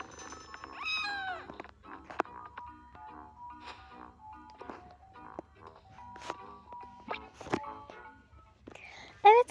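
A cat meows repeatedly up close in a series of rising and falling cries, with a soft whispered voice between the calls.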